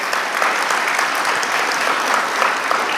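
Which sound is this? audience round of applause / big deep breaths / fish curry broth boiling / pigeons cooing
audience round of applause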